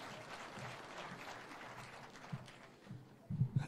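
Applause from a seated crowd greets a Kenyan majority leader at a public event, steady and moderately distant, swelling louder near the end.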